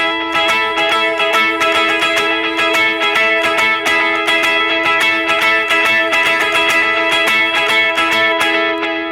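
Electric guitar through effects plays the chorus part of a song: a dense, sustained wash of ringing chordal notes with steady picked attacks, loud and continuous with no talking.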